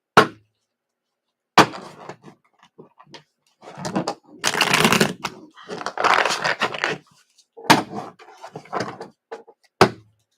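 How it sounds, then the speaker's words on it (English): A deck of tarot cards being shuffled by hand: several separate bursts of riffling and shuffling, close and fairly loud, with short silent pauses between them. "we're going to give you a couple more shuffles"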